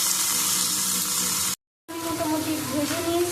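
Mixed vegetables fry in a pan for a vegetarian panchmeshali dish, giving a steady, dense sizzling hiss that cuts out briefly and then returns with a faint voice murmuring under it.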